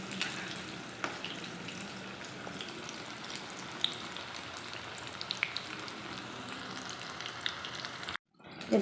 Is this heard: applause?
no